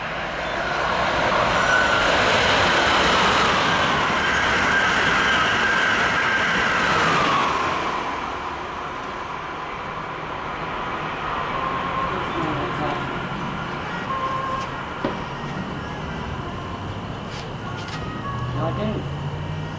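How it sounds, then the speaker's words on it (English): A northbound Amtrak Acela train passes as a loud rushing roar that fades into steady rail rumble and faint wheel squeal, with people talking nearby. "Here comes the northbound Acela."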